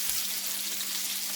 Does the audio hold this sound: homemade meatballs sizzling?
yes